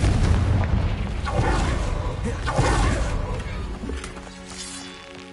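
Confringo blasting spell going off in Hogwarts Legacy on PS5: a loud, rumbling explosive burst with repeated booming hits that fades into a lower, thinner tail, with a voice speaking over it.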